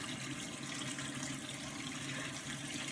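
Hot water running from a kitchen tap, a steady, close hiss of flowing water with no break for about three seconds.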